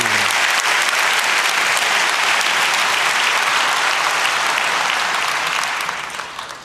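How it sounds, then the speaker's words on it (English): At a hacking and security conference, a crowd gives speaker Stephen Ridley warm applause, loud sustained clapping that holds steady before fading at the close. "Give a warm hand of applause to Mr."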